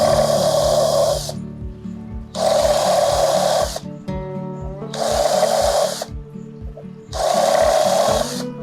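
A hole being widened in a plant pot by twisting a screw by hand, a bright grinding scrape in four long bursts of about a second each, separated by short pauses, close and alone.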